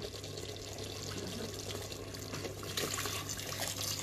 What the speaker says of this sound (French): Donc maintenant, on va couvrir d'eau bouillante